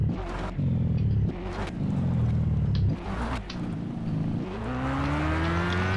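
Buggy engine in the Mon Bazou driving game revving hard in repeated bursts, pitch climbing then dropping between throttle blips, loud and close, with flames shooting from the exhaust.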